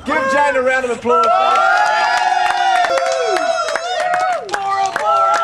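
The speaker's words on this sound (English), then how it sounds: "Give Jane a round of applause." A radio promotion crowd breaks into clapping, cheering and whoops after a countdown and toss, loud and close, with excited voices and music-like tones mixing through it.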